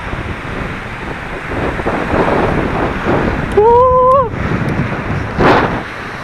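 Steady wind gusting across an empty seaside beach beside a pitched tent, a loud continuous rush with surf-like swells and a brief whistling tone partway through.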